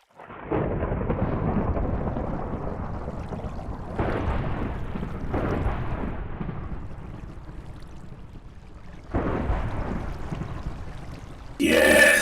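Rolling thunder from a thunderstorm in the Minecraft video game, long deep rumbles that swell in several waves across the clip, loud and continuous with no talking.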